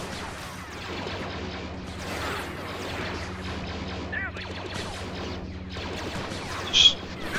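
Clones and droids trading gunfire in Men of War Assault Squad 2, a continuous muffled clatter of distant shots and crashes with a louder snap near the end.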